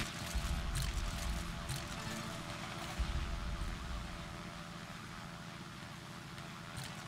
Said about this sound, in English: Hear the little sirens in the background